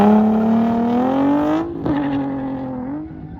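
Drift car held at high revs, a loud sustained engine drone rising slowly in pitch, briefly dipping mid-slide before settling, with a broadband screech hinting at tire squeal.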